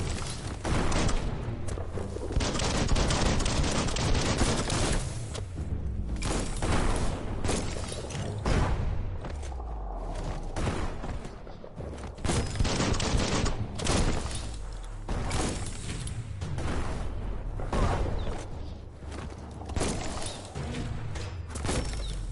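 Bomb lobber attack in the PS5 game Biomutant: repeated booming blasts and thuds arrive in bursts across the stretch, loud and close, over dense game noise with no talk.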